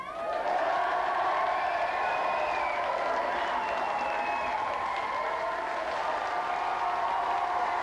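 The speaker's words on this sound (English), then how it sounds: "let's have a big round of applause for all of them" A large TV game show studio audience applauds steadily and loudly for several seconds, with faint cheering mixed into the dense wash of clapping.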